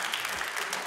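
Audience applause at a televised Azerbaijani arts evening, a dense, even burst of many hands clapping, moderately loud and continuous with no speech over it.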